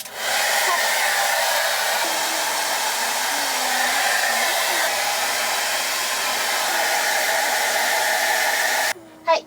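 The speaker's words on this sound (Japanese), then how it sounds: "これから車でドライヤーをしようと思います" A hair dryer blows steadily inside a camper van, a loud continuous broadband whoosh that runs unbroken for several seconds before cutting off abruptly near the end.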